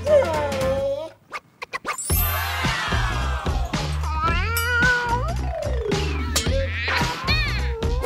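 A cat meows repeatedly, several bright drawn-out and rising cries close by, broken by short pauses and a brief quiet stretch, loud and clear without talk.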